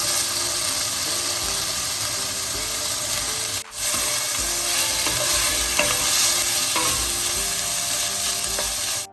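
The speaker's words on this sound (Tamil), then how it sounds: "இந்த வெங்காயம் வதங்கி கொண்டு வர இந்த பருப்பை சேர்ப்போம் இனிமேல் இந்த குடமிளகாயை சேர்ப்போம்" Onions, dal and capsicum being stir-fried for millet fried rice, a loud continuous sizzle close up with scraping spatula strokes against the pan, briefly dipping once and otherwise unbroken, no voices.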